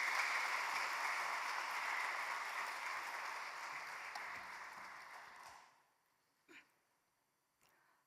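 Congregation applauding to welcome a missionary speaker at a Wednesday church prayer service, a steady crowd clapping that fades out after about six seconds, followed by a couple of faint isolated knocks.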